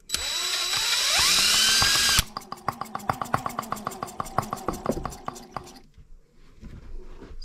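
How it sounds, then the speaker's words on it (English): An electric drill whines at high pitch for about two seconds, then a Benz R18 engine is spun over through a starter attachment, giving a rapid, steady run of mechanical clicks and knocks that slow and fade away, with no talking. "we can use this drill start attachment. Put it up against the wheel and spin her over."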